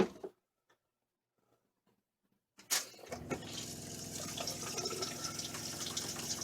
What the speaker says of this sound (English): Maybe I'll just go into the bathroom and turn the sink on in there.